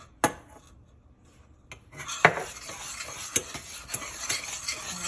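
Caramel sauce with heavy cream being stirred in a pan, a spoon scraping and clinking against the metal in quick irregular strokes, close and fairly loud, with no talk.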